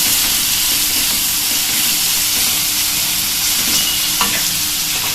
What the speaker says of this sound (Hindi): हम इसमें अदरक लहसुन का ये पेस्ट डाल देंगे और इसको हमें अच्छी तरह से भूनना है।